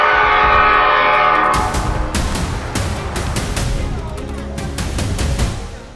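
A 70-mph express train roars past at close range, a loud horn blast sounding at the start before heavy rumbling and clattering wheels carry through to the end.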